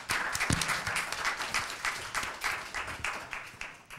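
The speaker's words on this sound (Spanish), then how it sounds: "Por favor, un fuerte aplauso." An audience at a literary conversation event claps for about four seconds, a lively and fairly close round of applause with individual hand claps distinct in the mix.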